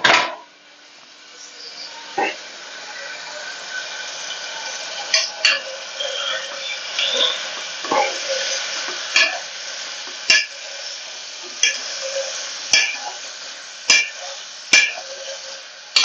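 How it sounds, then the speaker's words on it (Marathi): A masher pressing chole masala in a pan, giving a soft continuous sizzle with repeated sharp knocks of the masher against the pan, close and fairly loud. "या ठिकाणी स्मॅशरने आपण त्याला बारीक करून घेऊया."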